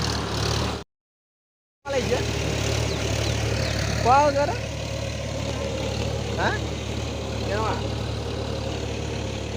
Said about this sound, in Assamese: একদম পুৰা বৰ ট্ৰেক্টৰে হাল মাৰি দিছে।